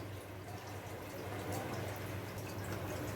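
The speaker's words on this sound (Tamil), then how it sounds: "நம்ம தேங்காய் பால் ஊற்றி நல்லா குழம்பு கொதி வந்துக்கிட்டு இருக்கு" A quiet, steady bubbling and simmering of thick coconut-milk fish curry with mango and okra in a pot, a continuous low gurgle with no talking.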